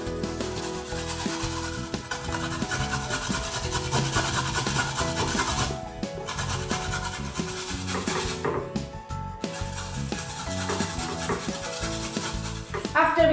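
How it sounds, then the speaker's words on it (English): A carrot being grated on a small grater, giving steady, close rasping strokes in a continuous rhythm with a couple of brief pauses. "we are going to take the carrot and grate it on the small grater here"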